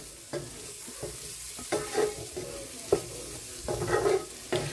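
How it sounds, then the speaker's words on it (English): Corned beef hash with onion, trimmed of fat and fried in a lightly oiled pan, sizzles steadily while a utensil scrapes and stirs it in several distinct strokes, close and moderately loud, with no talking. "I'm going to give it a stir again"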